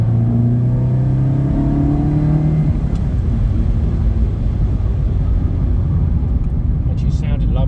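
A Ferrari 308 engine under way on a warm test drive, a steady loud drone with rising rev harmonics early that settle into constant road rumble, with faint talk in places.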